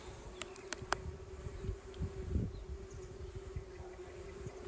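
Honey bees at an open spring hive with combs and young bees hum in a steady low buzz, with a few sharp clicks from handling the frames.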